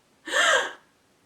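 A sharp, quick intake of breath through the mouth, drawn high into the chest with the collarbones and shoulders rising, shown as a singing breathing exercise; a single close, airy gasp of about half a second, with no voice over it.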